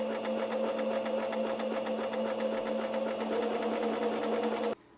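A repaired electronic sewing machine stitches steadily at close range, a constant buzzing hum with a fast mechanical rattle that runs evenly for several seconds before stopping abruptly.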